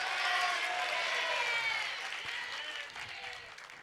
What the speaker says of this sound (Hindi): तालियों की आवाज में तो वृद्धि हो गई